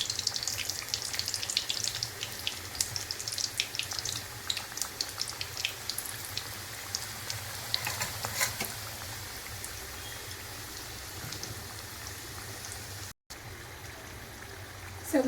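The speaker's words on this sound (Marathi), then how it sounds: "कढईमध्ये तेल तापत ठेवलेलं. आता तेल गरम झालं आहे छानपैकी. ह्यामध्ये आपण एक एक करून समोसा ॲड करू." Samosas frying in hot oil in a wok, a steady crackling sizzle with dense popping bubbles running throughout, close and fairly loud with no talking.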